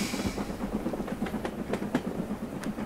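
A train rolls along with a steady rhythmic clickety-clack of wheels over rail joints, moderately loud and continuous, no voices.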